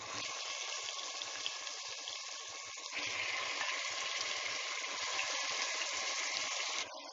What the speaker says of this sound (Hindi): नेक्स्ट हम इसमें मैरिनेट किया हुआ गोश्त डाल देते हैं।